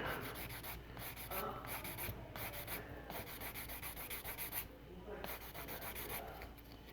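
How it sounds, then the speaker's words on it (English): A 400 grit sanding stick rubs across a resin part of a 1/6 scale Deckard garage kit, taking down the pour tab and seam in close, steady back-and-forth strokes with brief pauses between passes. "Now I'll come in with I've got a 400 grit sanding stick"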